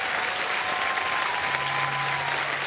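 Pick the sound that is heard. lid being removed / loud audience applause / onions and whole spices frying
loud audience applause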